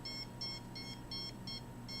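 A detector alarm gives faint, high, evenly spaced electronic beeps, about six short pulses in quick regular rhythm over a low steady hum, with no talking.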